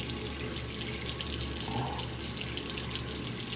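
Tap water runs steadily into a sink to rinse a straight razor after a shave, a continuous close, soft rush with no talking.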